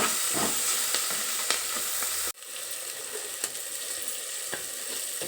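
Masala chillies salted and roasting in a pan until red give a dense, close, continuous sizzle. The sizzle briefly dips partway through, then resumes with faint stirring clicks and no voices.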